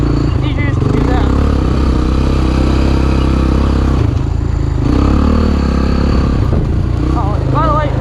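A 1987 Honda TRX250X quad's engine runs loud and close as the throttle is worked, a continuous rough roar with revving swells and some clatter, with a voice talking over it.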